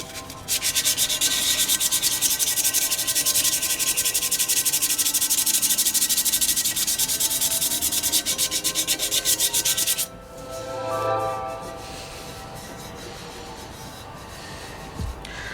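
Steady, loud back-and-forth scrubbing of 240 grit wet-and-dry sandpaper on a VW Polo 9N3 GTI wheel, close up for about ten seconds, then a brief quieter rubbing and a faint knock.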